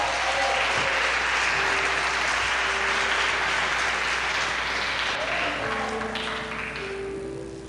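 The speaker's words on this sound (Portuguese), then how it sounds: "Aleluia, aplauda o Senhor." Church congregation applauding during a worship service, a dense, sustained wash of clapping throughout that tapers off slightly near the end, with faint background tones.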